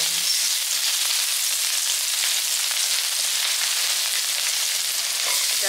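Garlic and onions sautéing in a pan for spaghetti, a loud, steady, close sizzle and crackle of frying that runs unbroken throughout, with no talking.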